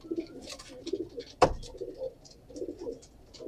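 Fancy pigeons at a hobbyist's loft coo softly and repeatedly in low, rounded calls, with one sharp knock partway through and no talk.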